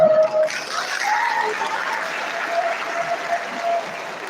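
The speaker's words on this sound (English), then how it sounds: "a round of applause to welcome you" An audience at a newly qualified doctors' induction ceremony gives a sustained, even round of applause in a large hall, steady and fairly loud throughout.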